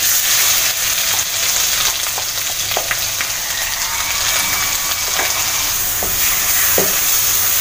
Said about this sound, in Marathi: वाटण चांगलं असं परतून झालं आहे.